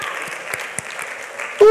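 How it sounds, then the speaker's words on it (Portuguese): A congregation claps together during a Portuguese-language church service, a steady burst of applause with sharp individual claps, a voice speaking over it throughout. "Vamos bater palmas."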